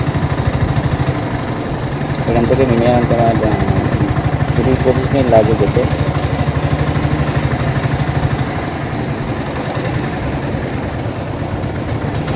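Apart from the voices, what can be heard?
engine van running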